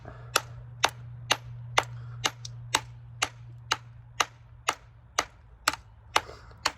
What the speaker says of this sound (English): I like to take the flat end again because it will reach down in there once that recesses below the surface, and just start hitting it.